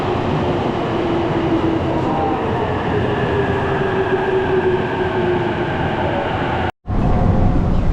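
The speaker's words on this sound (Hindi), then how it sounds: "ये वाली ट्रेन 10 मिनट लेट आई है। तो चलो कोई नहीं, फाइनली आ तो गई।" A train pulls into a station in Tokyo, Japan, a loud, steady rumble and roar of wheels and motors that fills the whole stretch close by, with a faint whine gliding through it before a sudden brief cut.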